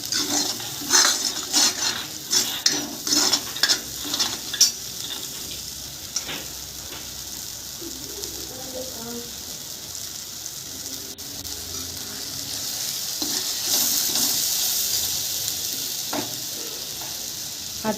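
Ground masala paste frying and being stirred in a pan for a spicy Khandeshi spring onion curry, with a steady sizzle, scraping of the spoon against the metal and clinking strokes that are busier early on.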